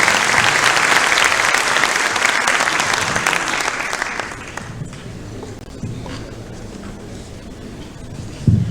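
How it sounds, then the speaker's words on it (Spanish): Lecture audience applauds the speaker: loud, dense clapping for about four seconds that quickly fades to scattered claps and room noise, with some shuffling footsteps afterward. "Demos un aplauso para él, por favor"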